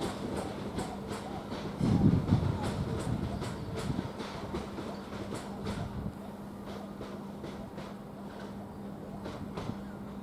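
A train departs Ramsgate station, heard from the platform as a low rumble with steady rhythmic clicking of wheels over rail joints, loudest early on and slowly fading.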